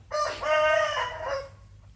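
A single fighting rooster crows once, close and clear, a long cock-a-doodle-doo lasting over a second before fading.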